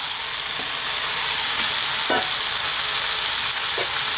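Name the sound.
raw spinach added to frying potato curry, stirred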